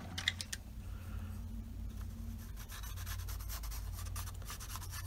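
A pencil is drawn across paper to mark a line during bookbinding work, making a soft, quiet scratchy rubbing that runs in short strokes with a few light taps near the start.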